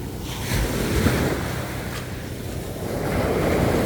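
Sea waves surge and churn along a shore, a steady loud wash with gusty wind noise swelling and easing over a few seconds, no voices.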